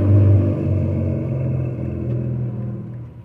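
A car engine rumbles and revs steadily, loud and close, holding a deep drone for a few seconds before easing off slightly at the end, with no voices.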